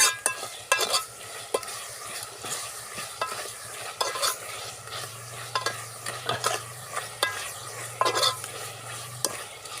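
Curry with ginger being sautéed in a pan, a steady close sizzle broken by repeated scraping and stirring strokes from a utensil, fairly loud and with no voices.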